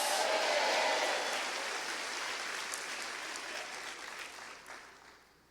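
A church congregation claps during an evening worship service, a broad dense roar of hands that starts strong and slowly fades toward the end.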